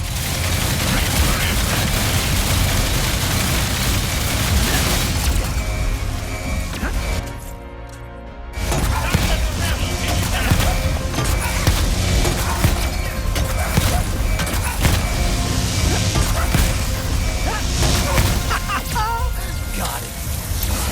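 Weapon fire and explosions in the video game Ratchet & Clank: Rift Apart, a loud, continuous barrage of shots and blasts with a brief drop in the middle, mixed with game voices.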